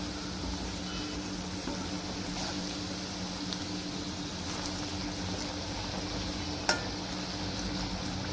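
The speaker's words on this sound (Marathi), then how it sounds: "गरम एकदम तेलात सोडलं ना तर वरून भाजल्या जातात आणि आतून कच्च्या राहतात" Fenugreek fritters (methi bhaji) fry in hot oil, a steady close sizzle with soft bubbling crackle and a single sharp clink near the end, with no voices.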